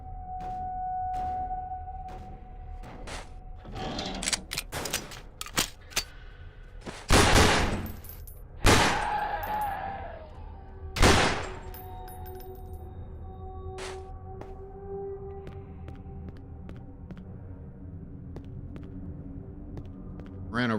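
Pistol shots in the horror shooter Underhell, several loud bursts and cracks scattered among game hums, clinks and ambient tones, with intermittent gaps between the firing.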